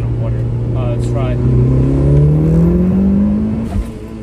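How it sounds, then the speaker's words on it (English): A Mitsubishi Lancer Evo 8 RS drives through flood water in bad weather, its engine droning loud and close and climbing in pitch, with a brief voice early on. "this thing feels like a 4x4 going through this flood right now"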